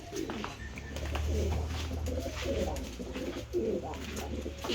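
Pigeons coo steadily in a rooftop terrace loft holding Arab breed birds and young, a low layered cooing continuous throughout at close range, with faint other bird calls and no talk.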